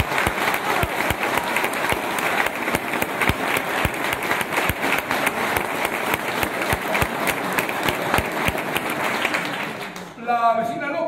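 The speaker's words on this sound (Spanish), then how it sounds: "Y permítanme pues, presentarles y pedirles un aplauso enorme para Begoña Mejía." An audience at a theatre festival performance applauds continuously, dense loud clapping sustained for about ten seconds before fading as a voice begins.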